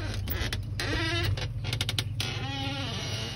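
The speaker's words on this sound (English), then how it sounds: "We have a storm door, and then let's go inside." A storm door on a house creaks open with a drawn-out, wavering squeal that rises and falls in several strained stretches, close and fairly loud over a steady low rumble.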